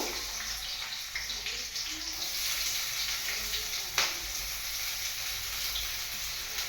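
Onions sizzling in hot oil with cumin seeds as a mutton curry base, a steady close hiss of frying with faint crackles throughout and no talk.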